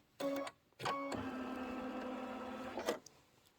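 An embroidery machine sews a tack-down stitch on fabric: a short motorized whir, a pause, then a steady two-second run of tonal mechanical humming that stops abruptly, close and fairly quiet.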